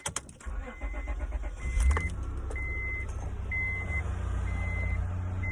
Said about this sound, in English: hopefully the car starts and I won't have to jump it anymore